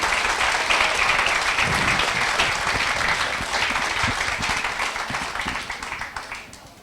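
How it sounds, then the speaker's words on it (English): An audience gives a round of applause during a Wrexham football season review, a dense, steady wash of clapping that gradually thins and fades out toward the end. "Yes, that's a round of applause."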